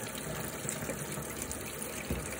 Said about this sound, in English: just washing and some cleaning up after picking some beans